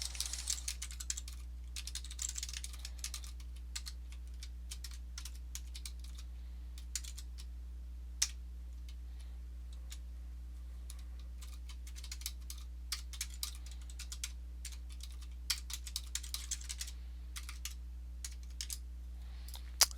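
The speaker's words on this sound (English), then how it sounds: "Why are my fingers not typing well today?" Typing on a computer keyboard, a steady run of light, quick key clicks close by with small pauses, alone over a low steady hum.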